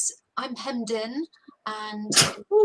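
A single sharp sneeze bursts out between stretches of indoor speech, loud and close, with people talking just before and after it.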